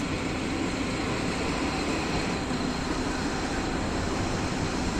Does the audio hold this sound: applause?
no